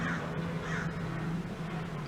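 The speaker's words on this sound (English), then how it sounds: "Sorry, there's loud helicopter and a crow." A crow caws a few times at a distance over a steady, rumbling drone of a loud helicopter.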